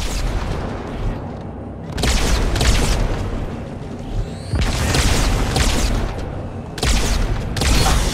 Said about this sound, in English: Tossing nades.